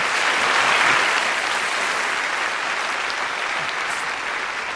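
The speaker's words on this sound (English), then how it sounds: "Round of applause for Emma." Dense audience applause fills the whole stretch, a steady wash of many hands clapping that eases slightly toward the end.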